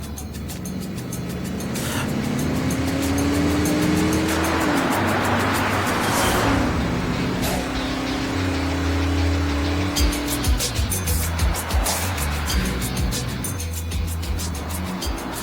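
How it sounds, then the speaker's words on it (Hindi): A car engine revs and accelerates hard, its droning pitch climbing in long rising sweeps over a continuous roar, fairly close and steady throughout, with no one talking. "चलो गाड़ी तेज भगाओ"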